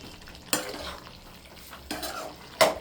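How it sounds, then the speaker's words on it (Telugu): Masala being stirred into chicken curry in a pan, with a few scraping strokes and a soft sizzle underneath, fairly quiet and close. "బాగా కలుపుకొని"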